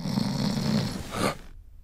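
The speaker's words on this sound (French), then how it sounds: "Mais tu ronflais trop fort, je ne pouvais plus dormir." A man snores loudly and steadily in a hospital room, a low rasping rumble that stops abruptly near the end, leaving silence.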